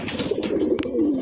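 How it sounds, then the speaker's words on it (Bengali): Kalshira Giribaj pigeons of an old line cooing nearby, a soft continuous throaty burble rising and falling over about a second, close and alone. "যে কালশিরা পায়রা দেখুন, ওল্ড টাইপের পায়রা, এগুলো ওড়ানো আছে।"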